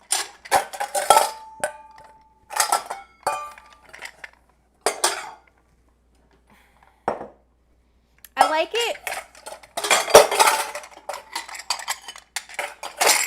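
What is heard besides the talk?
utensil clattering while mixing in a bowl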